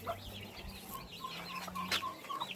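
Turkey hen leading her small poults around on a Ukrainian farm, with soft repeated clucks and peeping calls close by over a steady background hum.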